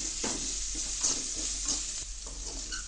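Onions sauté in a pan for hotel-style tomato chutney, making a faint, continuous sizzle with soft, repeated stirring scrapes and no speech.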